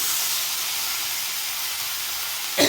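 Leafy greens added to a hot frying pan: a steady bright hiss of sizzling throughout, ending in a sudden louder burst of spluttering as they hit the pan.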